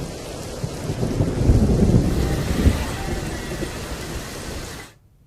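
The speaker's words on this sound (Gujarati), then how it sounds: "અનેક વિસ્તારોમાં પવન સાથે ધોધમાર વરસાદ વરસી રહ્યો છે" Heavy monsoon downpour driven by wind in Gujarat, a dense roaring wash of rain with rumbling thunder swelling loudest near the middle before the sound cuts off abruptly near the end.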